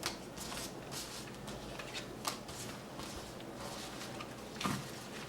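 Playing cards are shuffled with soft repeated riffling and snapping, quiet and close, with a few sharper flicks.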